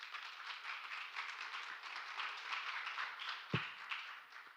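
Soft, distant applause from a business summit audience welcoming a speaker, a continuous even patter of many hands with one louder thump partway through.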